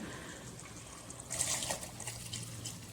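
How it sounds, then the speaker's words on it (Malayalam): Hot water pours from a vessel into mutton biryani masala in a Kerala-style home kitchen. A soft trickle builds into a brief, brighter splashing pour midway, then settles into a low liquid murmur. "ആ വെള്ളം ഇതിലേക്ക് ഒഴിച്ചു കൊടുക്കുകയാണ്"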